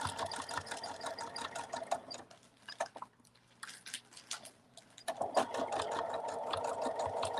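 A sewing machine stitches a dart on a fabric cuddle bunny, quiet rapid needle chatter in two runs separated by a short pause with soft handling noises.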